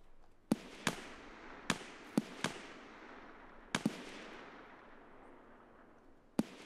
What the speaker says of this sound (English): Shooting at them.